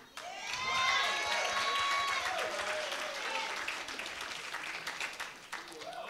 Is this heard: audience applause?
yes